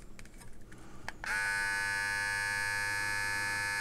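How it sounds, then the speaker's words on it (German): A handheld electric shaver or beard trimmer switches on after a second of quiet handling noise, then buzzes steadily, loud and close, with a bright whining hum to the end. "natürlich hört man, klar, logischerweise ist ein Rasierer, den hört man."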